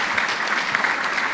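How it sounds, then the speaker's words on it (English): An audience claps steadily to welcome a keynote speaker, Professor Raphael Munavu, at the Kenya National Research Festival 2024, a dense, even wash of many hands with no break, no cheering and no talk. "Let's clap for him as he comes."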